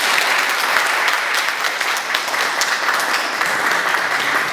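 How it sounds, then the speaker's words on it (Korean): Clapping from a lecture audience at an alumni homecoming event, steady and full, holding an even loud level throughout with no speech over it. "특강을 준비해주신 변보기 교수님께 다시 한번 박수 한번 부탁드립니다"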